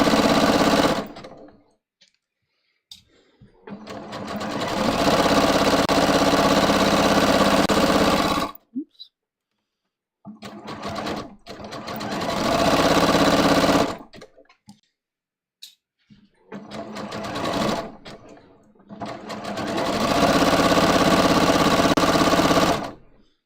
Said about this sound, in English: I want to go to my zigzag stitch here, like a little narrow zigzag.